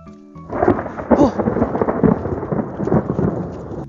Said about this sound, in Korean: 방금 번개 쳤어!